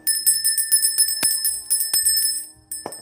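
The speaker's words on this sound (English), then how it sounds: "I think every human should have a bell." A hand bell used for energy healing rings repeatedly, its bright metallic strikes coming in a quick, steady rhythm with shimmering overtones that linger between hits, close and clear.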